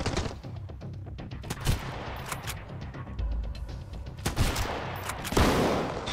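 Machine gun fire in the video game Sunkenland comes as repeated rapid bursts of loud, sharp shots, with a couple of heavier blasts standing out among the volleys.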